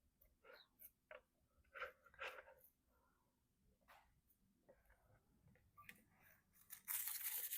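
Paper rips in short, sharp tearing bursts for a papier-mache Halloween craft from thrift store finds. The tears come at irregular intervals and are close by, with quieter rustling between them and a louder, sustained crinkle at the end.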